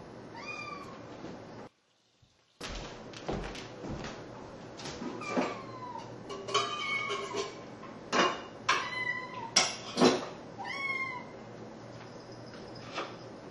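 Kittens meow repeatedly indoors, giving a series of short, fairly close cries with a brief silent gap near the start. The meows grow busier toward the middle, alongside light clicks and household knocks.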